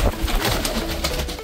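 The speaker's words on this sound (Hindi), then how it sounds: "तो दोस्तों कबूतर आराम से मज़े से हैं अंदर।" Pigeons coo softly inside an indoor enclosure with a light on, low throaty calls over a dense, busy background of rustling and other birds nearby.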